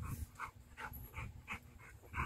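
A dog pants in quick, rhythmic bursts beside a fishing spot, soft breathy huffs repeating steadily at close range with a faint whine, fairly quiet overall.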